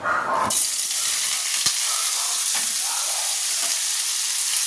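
Chopped vegetables, including snake gourd, hit hot oil in a home kitchen pan, bursting into a loud, steady, close sizzle that holds unbroken to the end.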